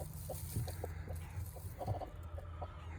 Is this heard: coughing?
no